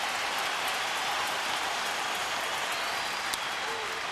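A baseball crowd at Minute Maid Park stands and applauds pitcher Andy Pettitte, a steady, dense wash of clapping and cheering that holds evenly throughout with no pauses.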